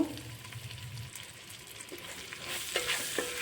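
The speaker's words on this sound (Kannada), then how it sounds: "ಇವಾಗ ಈರುಳ್ಳಿ ಹಾಕ್ಕೊಳ್ತಾ ಇದ್ದೀನಿ ಈರುಳ್ಳಿ ಚೆನ್ನಾಗಿ ಫ್ರೈ ಆಗಬೇಕು" Sliced onions frying in a pan for egg biryani, a steady close sizzle with stirring scrapes and clatter, growing louder and hissier toward the end, no voices.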